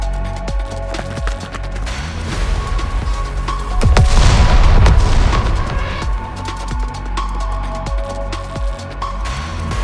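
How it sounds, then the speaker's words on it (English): A grenade goes off in the game Goddess of Victory: Nikke, a deep booming blast swelling midway through amid scattered gunfire-like cracks and pops over a steady game soundtrack. "Grenade!"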